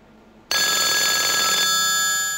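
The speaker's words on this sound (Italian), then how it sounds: "Reagan telefona a Craxi" Telephone bell ringing, bursting in suddenly after quiet room tone and holding as a loud, continuous electric ring that slightly shifts in tone partway through.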